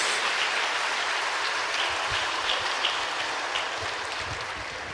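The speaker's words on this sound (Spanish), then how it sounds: "Pues démosles un aplauso a San Miguel y a los nueve coros." Applause from an audience at a religious conference on the angelic choirs, a steady dense patter of clapping that fills the whole stretch with no talk over it.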